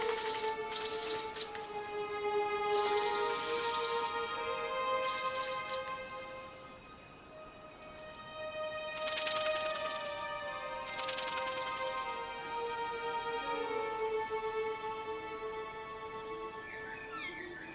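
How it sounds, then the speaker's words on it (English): Ribbon-tailed astrapia birds of paradise in a misty forest courtship dance, giving repeated bright chirping calls and rattling bursts over a steady tonal insect-like drone, fairly close and continuous with no voices. "Not only has he seen a ribbon-tailed astrapia, he's filmed their courtship dance."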